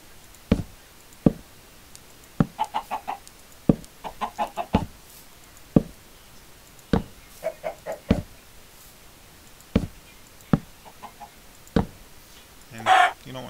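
Chickens clucking in a blocky Minecraft-style survival game, short sharp clucks and bursts of rapid clucking spaced irregularly, fairly close and clear with a quiet background.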